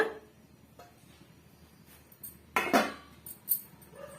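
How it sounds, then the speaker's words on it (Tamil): A metal lid set onto a cooking pot of simmering potato gravy, with faint light clinks early on, then a sharp clattering clank and a second smaller knock near the end, close up with no speech. "ஒரு மூடி ஒன்று போட்டுக்குங்க"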